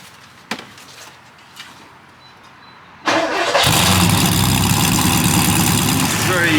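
Porsche 928 V8 cranks and starts, then settles into a steady, smooth idle after a few quiet clicks and knocks at the start.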